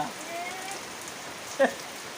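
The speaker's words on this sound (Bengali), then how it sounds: "ওই যে বৃষ্টি পড়তেছে এটা ভিডিও করতেছে" Rain falling outdoors, a soft, even hiss of drops under faint background voices, with one brief louder knock partway through.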